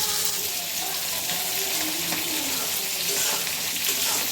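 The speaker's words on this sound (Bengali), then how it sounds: "মাছটা ভাজা হয়ে গেছে, এবার উঠিয়ে নিয়ে মশলাটা কষিয়ে নিই।" Spice paste sizzles in oil in a pan after fish has been fried, a continuous loud hiss and crackle, close and steady without breaks.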